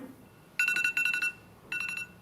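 An electronic buzzer sounds at a city council meeting in Joliet, two bursts of rapid pulsing tones, the first longer and the second shorter, loud and clear against a quiet room.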